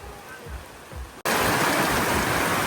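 Heavy rain drums around a triathlon tent in Otepää, at first a softer patter with low rumbles, then abruptly jumping to a loud, dense, steady downpour roar for the rest.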